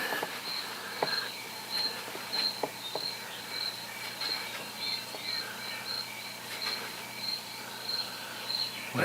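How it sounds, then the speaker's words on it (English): Crickets chirp at dusk across a model railroad layout, a steady run of high, repeated chirps with a few soft clicks, no talking. "you can hear the cricket sounds"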